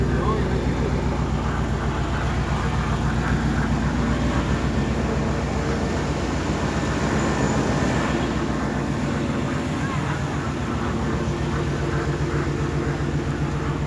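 A GMC Suburban V8 idles with a steady, fairly quiet low exhaust rumble heard from inside the cabin, while people chat over it throughout.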